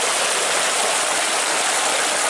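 Water gushes steadily from a 5-inch delivery pipe of a solar-powered tube well pump, a loud, close, continuous broadband rush with no talk over it.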